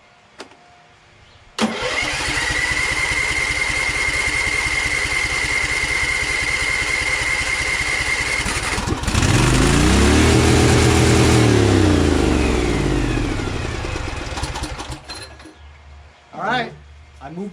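Little Wonder hedge trimmer with a Briggs Vanguard engine, choke on and throttle down, starts up and races out of control at high RPM, loud and close, surging higher midway before winding down near the end.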